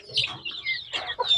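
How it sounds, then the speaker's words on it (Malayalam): Young chicks about one to one and a half months old, recently separated from the mother hen, cluck and cheep in quick bursts, close by and fairly quiet. "ഈ ഒരു കോഴിക്കുഞ്ഞുങ്ങളൊക്കെ തള്ളക്കോയി എൻ്റെ അടുത്ത് നിന്ന് മാറ്റിയ കോഴിക്കുഞ്ഞുങ്ങളാട്ടോ"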